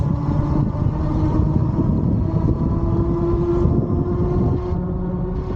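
A WALLKE X3 Pro eBike with a replaced motor runs under throttle near top speed, giving a steady loud motor whine mixed with heavy rushing wind noise throughout, with no talking.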